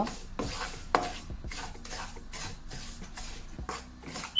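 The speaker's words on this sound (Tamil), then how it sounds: "ரவை வறுவட்டுட்டுதுன்னா உங்களுக்கு இப்படி கிளறதுக்கு ஈஸியாக இருக்கும்." A spoon scrapes and rubs steadily through roasting semolina (rava) in a pan, giving a continuous gritty stirring sound with rhythmic strokes, close by and without speech.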